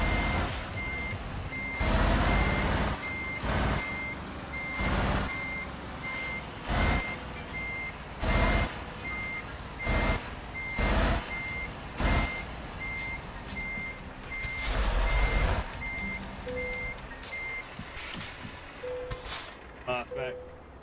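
A truck backing in within Euro Truck Simulator 2 sounds steady, evenly spaced reversing beeps over a low diesel engine rumble and hiss of air, with someone talking over much of it.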